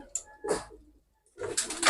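Pigeons or doves that are up for sale, two pairs, cooing and fluttering close by in short bursts separated by a brief quiet gap, with no talking.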